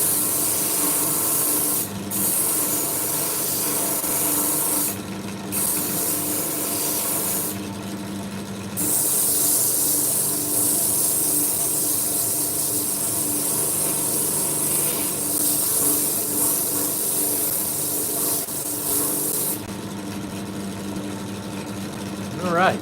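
A poured copper piece gets its first sanding, a steady loud abrasive rasp with a machine-like whir that drones on for a long stretch, pausing briefly a few times, while someone speaks over it.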